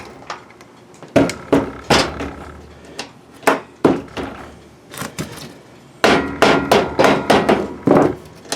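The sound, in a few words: hammering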